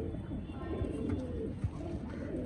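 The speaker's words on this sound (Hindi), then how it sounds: "बहुत ही शानदार कबूतर है दोस्तों ये मेल" Soft, low cooing from a male Teddy pigeon repeats several times over a steady background murmur, close by and fairly quiet.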